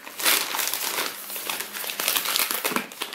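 A plastic packaging bag around a DJI Ronin 4 Pro Combo crinkles and rustles continuously at close range. The sound is loud and dense, with no talk over it.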